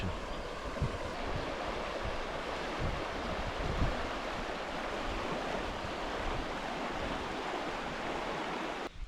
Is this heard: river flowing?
yes